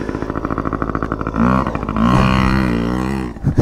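A 1970 Honda CT70 Trail 70 ridden through soft Florida sugar sand: a small engine close by chugs in a pulsing rhythm, then revs up into a strained, steady drone.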